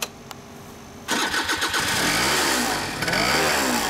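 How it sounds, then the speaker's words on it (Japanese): A 2004 Suzuki Address 110 two-stroke scooter starts after a short pause, its small engine catching quickly and settling into a buzzing, revving idle with a few throttle blips, close and loud. "エンジン音聞かせてもらえる？"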